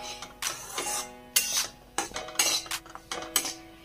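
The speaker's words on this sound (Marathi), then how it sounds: "याला आपल्याला सतत असं हलवत राहायचं आपल्याला बेसनाला" A spoon scrapes and clinks against a metal pan again and again while besan (gram flour) is stirred and roasted, in irregular sharp strokes at close range.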